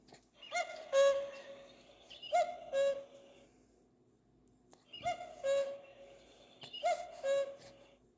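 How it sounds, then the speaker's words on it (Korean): A soft two-note cuckoo call from a children's sound book repeats several times in short phrases, with a quiet pause between two bursts, clear and close with no talking. "뻐꾸기의 평화롭고 잔잔한 울음소리가 숲속에 울려 퍼져요."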